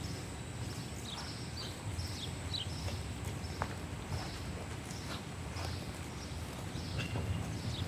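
A horse walks past with steady, repeated hoof clip-clops over a constant background noise, with a few faint bird-like chirps in between.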